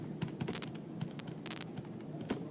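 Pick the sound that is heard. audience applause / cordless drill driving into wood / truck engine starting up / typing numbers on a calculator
typing numbers on a calculator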